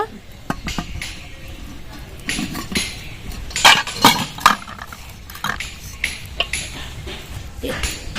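A metal bowl is set down inside a pressure cooker while a cake is being made, giving a few bright clinks and scrapes of metal on metal over a low kitchen background.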